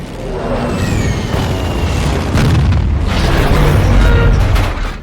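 Heavy explosions boom continuously, layered rumbling blasts and crackling debris, loud and close throughout.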